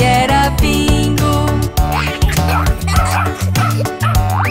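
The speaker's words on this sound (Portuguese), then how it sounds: "O fazendeiro tinha um cão, seu nome era Bingo" Cartoon-style dog barks and yips fall in time with a bouncy Portuguese-language children's farmer-and-dog song. The barks are loud and close, repeating rhythmically over the backing music.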